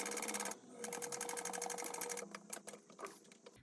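A sewing machine stitches panels of a coffin bag in a steady, rapid run for about two seconds, then slows into shorter bursts, loud and close with no talking.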